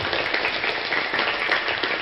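A crowd at a religious debate breaks into dense, steady applause, many hands clapping together in a continuous wash for a couple of seconds.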